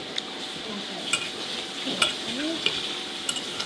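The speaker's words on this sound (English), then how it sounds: "the children are frying some fish for our dinner tonight. So there may be some sizzling in the background." Fish frying in a pan in a homestead kitchen gives a faint, steady sizzle with soft crackles and occasional small pops and clinks in the background.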